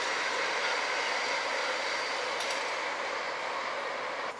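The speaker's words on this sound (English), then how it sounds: "Two trains at the same time." Steady broadband rumble and hiss of two trains rolling past at once at the Ouse Valley Viaduct, continuous and fairly loud with no voices.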